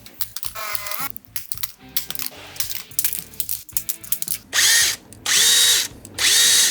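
Clattering knocks and rattles as a Pro-Craft mini chainsaw is dropped, then its small motor, still running, revs in three loud, high-pitched bursts, close by.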